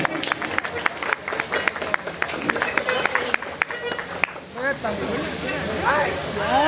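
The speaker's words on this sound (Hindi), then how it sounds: "दोनों हाथ ऊपर उठा के ताली बजा दीजिएगा" Audience clapping at a guru darbar stage event honoring an MLC, at a birha folk gathering: dense crisp claps for about four seconds, then voices and hubbub take over.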